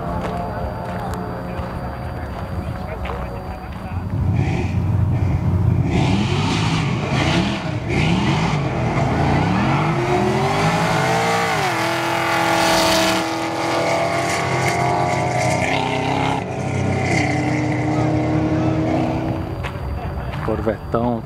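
Supercharged Chevrolet Camaro SS V8 at a car show, engine rumbling and revving loudly with rising and falling pitch sweeps, close by, while someone talks over it throughout.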